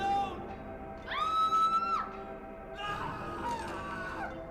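A woman's scream rises sharply in the horror video game Silent Hill 2, held as a tonal wail for about a second, then trails into further strained, wavering cries over low game ambience.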